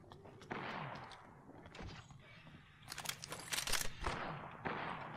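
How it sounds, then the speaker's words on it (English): Video game gunfire bursts out in rapid volleys of sharp shots aimed at the player, dense and loud in the later half, with rattling automatic fire and scattered single cracks. "Shots fired at me."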